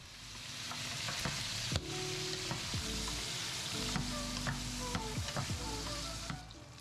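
Rice wine splashes into a hot wok already frying scallion and ginger slices, raising a steady loud sizzle with scraping stir strokes and clinks throughout.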